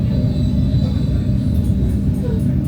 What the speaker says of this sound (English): I am on the train.